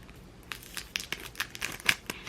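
Wooden stickers are handled up close, giving soft crinkling and peeling crackles in quick, irregular bursts against a quiet background.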